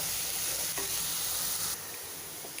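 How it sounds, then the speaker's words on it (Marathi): Onions sizzle and are stirred in a hot pan while cooking for Maharashtrian zunka, a steady close frying hiss that drops noticeably in level partway through. "आपला कांदा बघा इथे छान परतून झालेला आहे"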